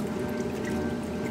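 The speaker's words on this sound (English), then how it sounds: "Maytag power fin is really turning this load over here." A Maytag top-load washing machine with a Power Fin agitator churns water and laundry in a continuous, steady sloshing rush, close and even in level.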